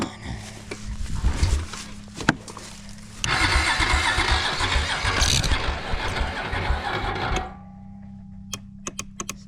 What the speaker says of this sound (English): Still won't turn over. Starter's being weird.